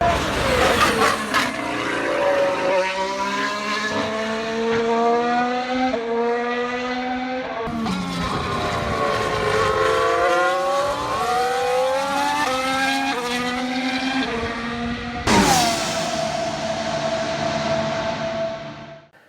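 Formula 1 race cars passing on a track, high-pitched engines rising and falling as each one screams by, with one car after another roaring past close and loud.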